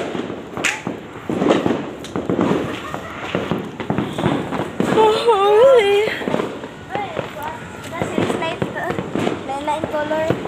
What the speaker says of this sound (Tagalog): Nagsisimula na naman sila sa pagpapaputok ng mga paputok.